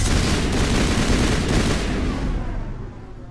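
Rapid shotgun blasts in the Mass Effect video game, loud and dense, firing close together in a sustained burst before tailing off.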